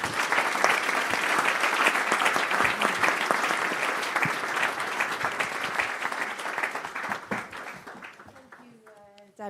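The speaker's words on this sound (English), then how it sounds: "join me in a warm applause thanking my fellow panel members" An audience at the EIOPA Annual Conference 2023 applauds its panel members, with dense, sustained clapping from a large crowd filling most of the stretch before tapering off, while a voice begins speaking near the end.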